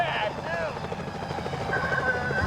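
Security helicopters in the Sly Cooper video game hover with a steady rotor drone that runs the whole time, while game dialogue and music carry on over it.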